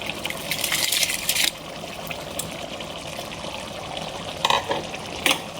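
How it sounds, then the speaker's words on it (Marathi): Rice being stirred in a pot of hot water for biryani, a steady wet swishing and bubbling with brief louder scrapes near the start and end, close by with no talk. "छान असं हलवून घ्यायचं."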